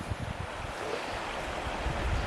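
Creek water rushes steadily at Bachelor Creek on a gold-prospecting trip, a dense, constant wash of noise that mixes with wind buffeting the microphone.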